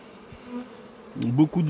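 Honeybees, including newly emerging young bees, hum close by on a hive frame with a rising, wavering buzz that grows louder toward the end.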